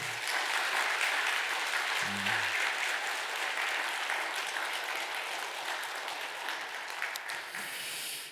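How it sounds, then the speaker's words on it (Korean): Church congregation at a Sunday worship service gives hearty applause, a full, continuous roar of clapping that fills the sanctuary and stays strong throughout. "성도들에게 칭찬과 응원의 박수를 한번 힘차게 보내도록 하겠습니다"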